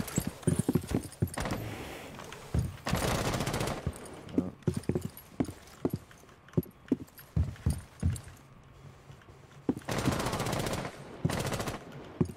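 Rapid bursts of automatic gunfire and single shots from the tactical shooter game Rainbow Six Siege, loud and close, with sharp clicking impacts and short sustained volleys, no talk.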